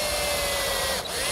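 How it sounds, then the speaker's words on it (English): A power drill pre-drilling wood for number 8 x 1 5/8 inch screws whines steadily at close range with a constant high-pitched tone, briefly dipping near the end. "I'm going to pre-drill for some number 8x1 5/8 inch screws"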